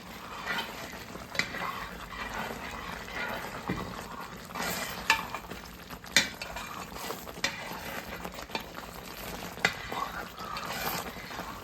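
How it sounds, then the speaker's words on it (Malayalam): Aravana prasadam being stirred in a pan with ground coconut and ghee, a steady scraping and stirring with soft sizzling throughout and a few sharper clinks of the spoon against the pan. "എന്നിട്ട് നല്ലപോലെ ഇളക്കി കൊടുക്കണം."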